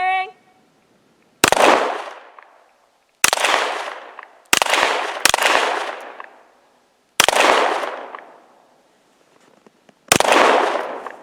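A Zigana Model F 9mm pistol fires six sharp, loud shots at an outdoor range, spaced irregularly about one to three seconds apart, each followed by a short echoing decay.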